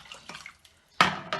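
Hot water splashes briefly into an empty tomato tin, two quick close pours with a short watery gush and a faint trickle before them.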